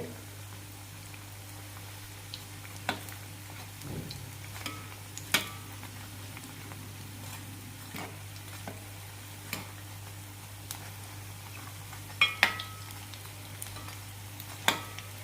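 Potato bondas bubbling in oil on a medium flame, a continuous soft sizzle broken by scattered crackles and light clicks of a turning spoon, near and moderate in level.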